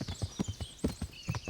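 Horse hooves in the video game Kingdom Come: Deliverance, a quick steady clip-clop of about a dozen hoofbeats at a trot, close and fairly quiet.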